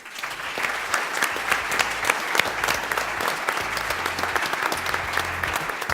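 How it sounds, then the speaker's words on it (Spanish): Audience applause at a conference session on infrastructure and logistics investment, a steady dense clapping from a large crowd that holds at an even level for the full stretch with no voices on top. "yo solamente les pido un aplauso para ellos"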